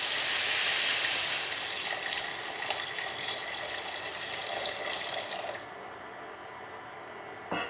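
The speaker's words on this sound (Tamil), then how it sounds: "நான் கொஞ்சம் தண்ணி ஊற்றுறேன், போதாது" Water pours steadily into a pot of vegetables on an infrared cooker, a close, continuous rushing splash that stops abruptly near the end, leaving quiet room tone.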